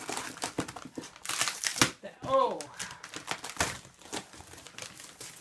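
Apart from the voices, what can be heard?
crumpling packing paper while unpacking a projector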